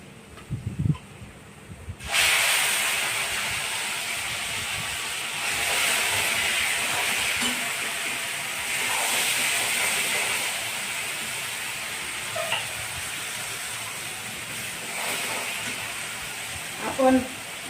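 Garlic frying in oil, a steady broad hiss that starts abruptly after a quiet opening with a few faint knocks, holding near and constant with soft clicks and brief talk.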